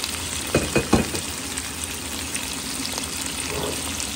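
Shrimp green curry with mixed vegetables bubbling and sizzling in a pan, with a few sharp scraping knocks of stirring early on over a steady low simmering hiss.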